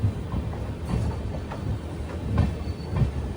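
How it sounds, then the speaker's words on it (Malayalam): A train arriving at Manamadurai Junction, with a steady low rumble and faint rhythmic clatter of the wheels over the track joints, heard from aboard the coach. "11:15 ട്രെയിൻ ഇതാ മാനാമധുരൈ ജംഗ്ഷനിലേക്ക് എത്തുകയാണ്"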